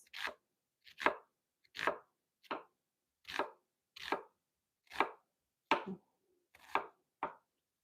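Knife slicing onions into thin, long strips on a cutting board, about ten crisp, evenly spaced cuts heard close up in an otherwise quiet kitchen.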